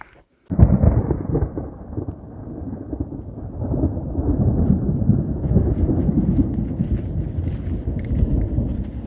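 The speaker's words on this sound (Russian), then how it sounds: "Вы слышите, как гремит мрачно?" Deep, rolling thunder from a storm near Pripyat, Chernobyl zone, rumbles on and on after a sudden onset, heavy and close, with steady rain hissing underneath.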